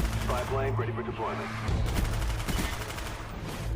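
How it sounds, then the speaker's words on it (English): An MP5K submachine gun fires in the Black Ops video game with rapid bursts of shots, mixed beneath a talking voice and a low hum. "Rapid fire buffs the MP5K at closer ranges"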